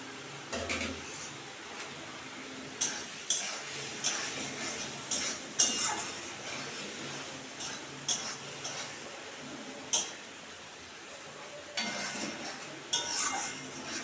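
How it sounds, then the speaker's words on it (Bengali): Spice masala with Kashmiri chilli powder being stir-fried in a pan, with a spoon repeatedly scraping and clinking against the metal in an irregular rhythm over a steady low sizzle, close and moderately quiet, with no talking. "মশলাটা কষানো প্রায় হয়ে এসছে"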